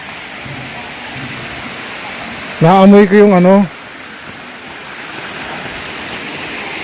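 Spring water at a resort pours and rushes steadily in a loud, constant wash. A person speaks briefly over the water.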